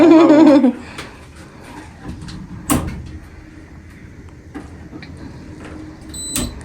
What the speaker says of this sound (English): I hear the air conditioner just clicked on.